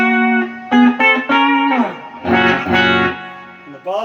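Electric guitar played through a clean amp cabinet in a two-amp pedalboard rig, loud sustained chords and notes in several bursts with pauses, ringing harmonics and audible effects coloring the tone.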